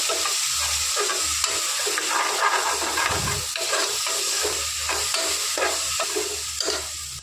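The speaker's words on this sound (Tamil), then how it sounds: "மசாலாலாம் எண்ணெயில் வதக்கியாச்சு." Spices and garam masala sizzle and fry in hot oil with steady stirring and occasional spoon scrapes, a continuous close hiss with no talking.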